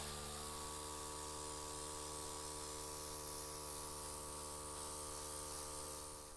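An airbrush sprays a base coat onto a resin scrap pile for a model railway, a faint, continuous hiss of air with a steady hum beneath it, unbroken for the whole stretch.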